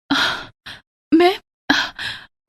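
A woman breathes in heavy, ragged gasps and sighs, four or five loud breaths close up, separated by short silences.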